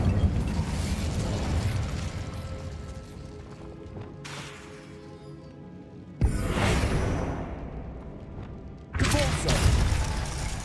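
Incendio fire spell cast in the Hogwarts Legacy video game, bursting out as sharp fiery whooshes and crackling blasts in three separate surges over a rumbling mechanical background.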